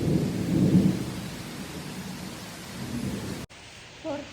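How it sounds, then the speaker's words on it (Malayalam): Thunder rumbles loudly at first over steady outdoor rain during a storm, the rain hiss continuing until it cuts off abruptly, followed by near silence and a brief faint voice. "പുറത്ത് നല്ല ഇടിയും മഴയുണ്ട്."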